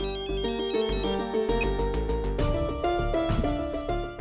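A mobile phone ringtone plays a loud, bright repeating melodic loop without pause. No voices accompany it.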